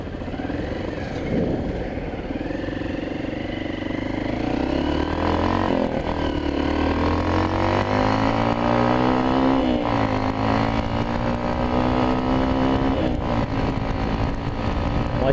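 A 150 cc motorcycle with a holed original exhaust rides along a street, its engine loud and close, rising and falling in pitch through the gears with a raspy, leaky exhaust note.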